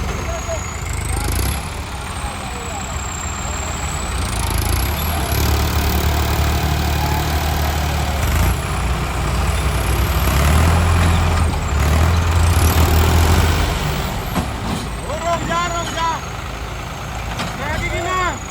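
A tractor engine runs on a Punjab farm in village Baupur near Sultanpur Lodhi, giving a steady, loud low rumble that continues throughout while people talk over it.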